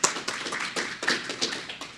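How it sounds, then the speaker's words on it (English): An audience at a PyOhio tech conference talk claps briefly, a short burst of scattered, fairly soft applause from a moderate crowd. "Let's give him a round of applause"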